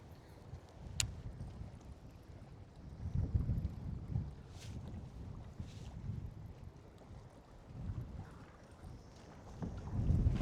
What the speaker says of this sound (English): Wind is pushing us.